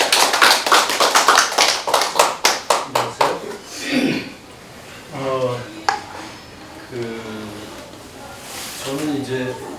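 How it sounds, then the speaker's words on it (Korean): Audience applause at a poetry book launch, with a burst of rapid clapping over the first few seconds that fades out, followed by someone talking. "박수로 청해 듣겠습니다"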